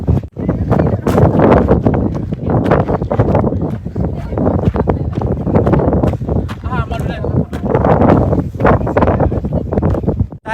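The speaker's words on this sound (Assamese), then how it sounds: "মোৰ চাউণ্ডটো নাহিব পাৰে বহুত বেছি বৰষুণ চৰি বতাহ" Strong wind buffets the microphone in loud, continuous gusts in Ireland, with heavy rain and weather noise roaring underneath while a person speaks throughout.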